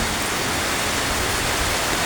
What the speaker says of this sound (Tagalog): Guys, umuulan guys.